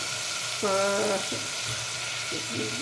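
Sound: ginger garlic paste frying with ajwain in oil

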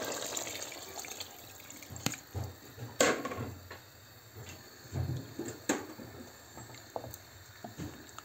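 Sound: water being poured into a pot of beans

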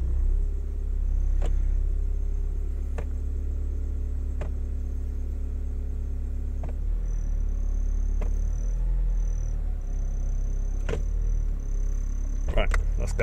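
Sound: Honda Fit CVT car running while shifted through its gears

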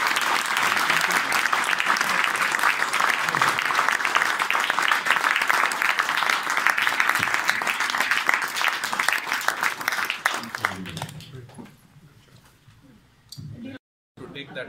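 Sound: audience applause for the Indian ambassador

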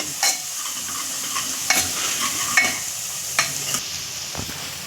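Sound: stir-frying garlic and curry leaves in a pan

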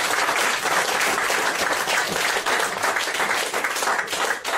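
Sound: audience applause for volunteer at magic show

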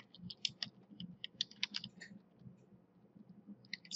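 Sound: typing details on a computer keyboard

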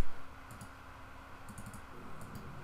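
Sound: computer mouse clicking

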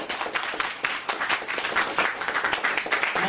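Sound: audience applause

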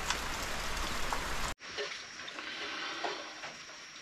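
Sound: rain falling

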